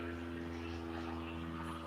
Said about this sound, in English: Oh, that's a noisy plane.